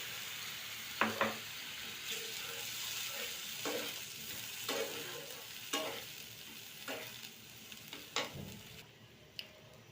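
Fish frying in a pan sizzles steadily as water is poured in, with a few sharp utensil clicks and scrapes breaking through the hiss at moderate volume.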